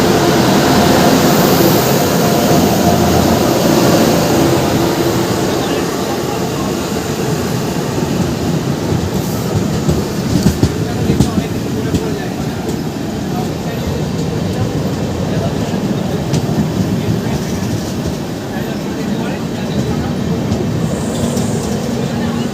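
Bikaner–Sealdah AC Duronto Express (12207) rushing past on an Indian railway line, a loud continuous broadband roar of wheels and rushing air sustained close by throughout, with brief rattles and clanks midway.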